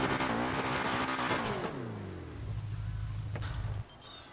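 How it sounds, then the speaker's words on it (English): A custom car engine sound in a FiveM server for GTA V revs high then drops in pitch as it decelerates, settling into a steady low idle before cutting out abruptly, close and clear. "the engine sound is the same one that I had in that video"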